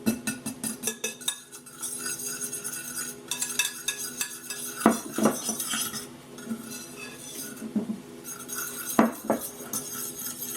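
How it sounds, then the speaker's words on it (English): Oat flour, almond flour and salt being stirred together in a bowl for a vegan quiche crust, with a steady run of scraping and clinking from cutlery against the bowl, sharper knocks standing out now and then. "just going to mix together the oat flour, the almond flour, and the salt"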